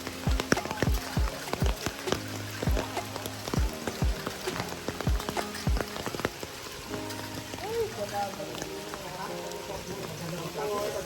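Heavy rain drums steadily at camp 4 on Mount Hamiguitan, with loud, close drips striking a surface in a quick uneven rhythm under a constant hiss, while a voice speaks briefly.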